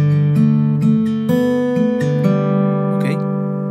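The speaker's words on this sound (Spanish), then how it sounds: "en el verso estamos tocando la primer parte del intro que suena así." Electric guitar strumming the opening intro chords of a song, a short run of ringing, evenly spaced chord strokes with sustained harmonics, loud and close with no voice over it.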